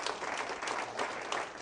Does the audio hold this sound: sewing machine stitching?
no